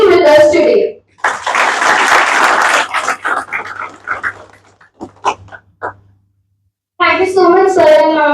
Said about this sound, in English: Let's give all our four esteemed panelists a big round of applause for being with us today.